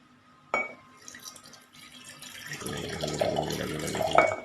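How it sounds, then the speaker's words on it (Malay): Water pours into a glass jar holding sugar and salt for a mango pickle, a sharp clink at the start followed by a steady, rising trickle of liquid filling the container, close and moderately loud, with no talking. "Masukkan air."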